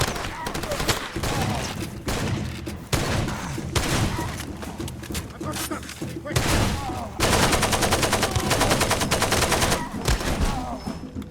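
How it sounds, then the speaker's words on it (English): Gunfire in the video game Far Cry 2, with dense continuous automatic weapon bursts and rapid shots filling the whole stretch, loud and sustained, with a player's voice talking over it at times. "How are they shooting me?"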